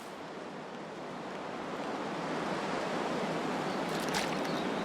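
Wind howling outside in the survival video game The Long Dark, a steady, soft, broad rush that slowly swells, with no talk.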